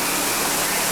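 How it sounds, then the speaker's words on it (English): Dense, steady roar of water pouring down at Schweitzer Falls on Disneyland's Jungle Cruise ride in California, recorded close and loud from a passing boat in 1988. "We're now going underneath Schweitzer Falls."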